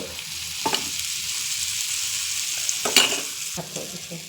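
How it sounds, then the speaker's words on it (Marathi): A little oil poured at the side of a pan with breakfast food frying, a steady sizzle broken by a few sharp utensil clicks and one louder crackling burst, no speech. "आणि आता असं तेल टाकायचं साईडला थोडस"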